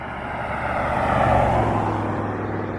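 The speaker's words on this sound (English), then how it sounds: "You can hear even a car coming along here." A car on Albany Highway passes close by a bush trail, a steady broad roar of tyres and engine that swells to a peak mid-pass and then slowly eases, with no voices.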